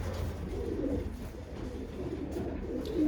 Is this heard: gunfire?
no